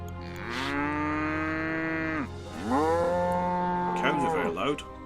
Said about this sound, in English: cows are very loud.